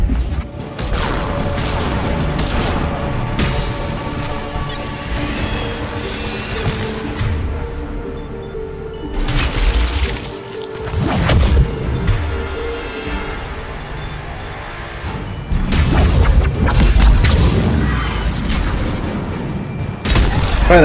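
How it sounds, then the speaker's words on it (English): Grenade blasts and bursts of gunfire from the video game Mass Effect 3, heavy booming explosions mixed with rattling shots in dense waves, with a brief lull midway before another loud barrage. "Damn grenades."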